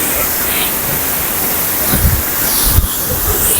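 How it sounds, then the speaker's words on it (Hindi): Fast-flowing Himalayan mountain water by Kashmir waterfalls roars continuously in a loud, dense rush, with occasional knocks and rumbles rising through the steady torrent. "पानी की आवाज़ से और खड़खड़ाहट से आप देख सकते हैं कितना स्पीड का पानी है"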